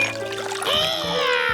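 Liquid pours in a Curious George cartoon scene, a bright trickling, tinkling stream rising in pitch as it fills, with cartoon music tones underneath, steady and close for under two seconds.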